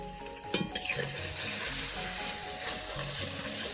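Spices and green chilies for a singi fish and papaya curry fry in a pan with a steady sizzle, opening with a couple of sharp clinks of a utensil against the pan before the frying continues evenly.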